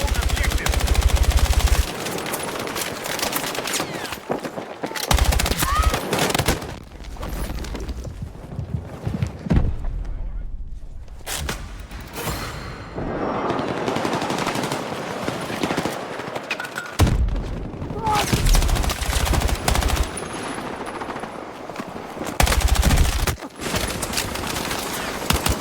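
Gunfire fills a video shooter game battle as one character lays down covering fire, with dense bursts of automatic shots and loud booming impacts that come and go in waves, a brief lull near the middle, and faint voices mixed into the din.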